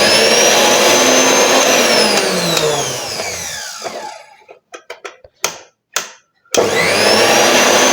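A mixer grinder's motor, just repaired after an armature change, whines loudly at high speed, then winds down and is switched on and off in several short bursts before spinning back up to full speed.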